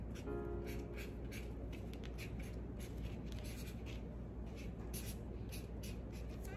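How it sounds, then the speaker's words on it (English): Pen or marker scratching out a word by hand on paper in an art lesson, a run of short quick strokes with brief pauses, close and fairly quiet over a steady low background hum, no talking. "so I'm gonna write Antigua"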